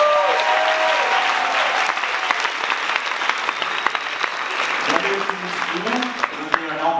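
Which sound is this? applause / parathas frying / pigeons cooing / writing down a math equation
applause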